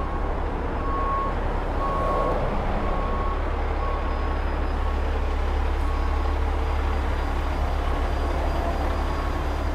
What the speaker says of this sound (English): I'm having Alex back up the Hulk right now